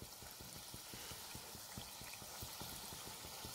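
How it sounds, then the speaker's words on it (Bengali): Sim pitha frying in well-heated oil in a wok, a steady close hiss and crackle of bubbling oil with a faint rhythmic ticking beneath. "তো কড়াইতে খুব ভালোভাবে তেল গরম করে নিয়েছি। এখন একে একে এগুলো দিয়ে দিচ্ছি।"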